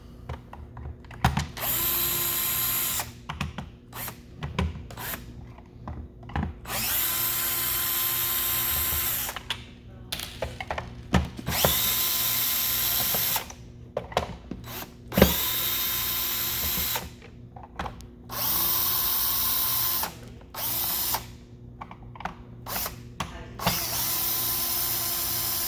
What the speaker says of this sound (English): You'll need a driver with a Phillips number 2 bit on it. 5 screws on the bottom.